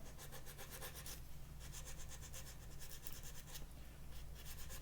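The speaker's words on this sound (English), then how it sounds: "There was primer on it. Now I've sanded it off." Sandpaper rubs primer off the metal jack of a headless bass guitar in faint, close, repeated rasping strokes, with no voices.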